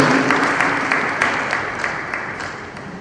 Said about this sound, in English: So another round of applause for our Honorable Commissioner.